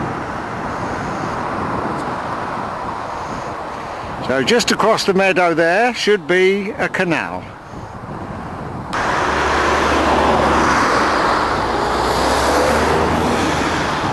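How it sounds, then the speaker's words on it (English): Distant motorway traffic as a steady low broadband roar across a meadow, heard under someone speaking, then continuing alone and slightly louder near the end. "in the distance, way up there, is the traffic on the motorway. You can just hear it all in the background."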